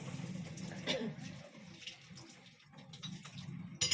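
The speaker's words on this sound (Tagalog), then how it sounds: "Kuha tayo tubig." Water runs steadily from a tap while someone fills a container indoors before a meal, a soft, quiet splashing stream with a few brief knocks and clatters.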